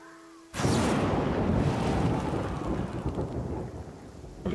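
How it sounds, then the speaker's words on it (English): Video game thunderstorm in Pathfinder: Kingmaker's Varnhold village, a sudden loud thunder crack opening into heavy rain pouring steadily, rumbling and hissing as it gradually eases off. "Well, it was raining."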